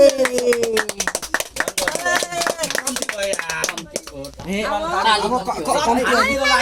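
Quick, uneven hand claps ring out repeatedly at a child's fourth birthday celebration, mixed with chatter and children's voices.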